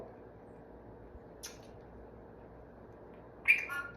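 A pet bird gives two brief chirps in a quiet indoor room, a faint one early on and a sharper, louder call near the end, with near silence between them.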